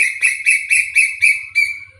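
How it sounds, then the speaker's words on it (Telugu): A bird repeats a loud, bright call about six times in an even rhythm, close by, with faint low rumbling underneath. "పక్షులు చూసారా ఎలా అరుస్తున్నాయో"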